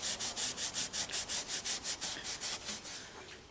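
Rhythmic rubbing strokes as engine head studs on a Farmall Super M tractor are polished clean, about fifteen even back-and-forth passes, close and steady, fading slightly toward the end, with no talking.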